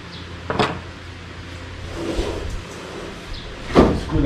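A chair slides across the floor in a few short scrapes, one brief rasp early, a softer drag in the middle and a louder scrape near the end, close by with no talk.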